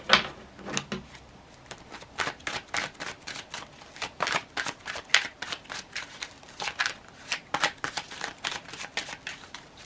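Tarot cards being shuffled by hand at close range, a rapid run of crisp riffling and slapping bursts that repeat steadily throughout, with no voices.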